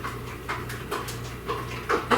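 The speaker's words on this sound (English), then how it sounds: "That's my dog behind me." A pet dog in a home kitchen gives a few soft whimpers and short breathy pants close behind, with a low steady hum underneath.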